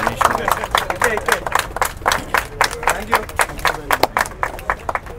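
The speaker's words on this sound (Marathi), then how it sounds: "सगळ्यांनी जोरदार टाळ्या वाजवायच्या आहेत त्यांच्यासाठी" An audience at a cricket prize ceremony claps for a sponsor, a fairly close crowd applauding in quick uneven bursts that continue throughout, with an announcer's voice over them.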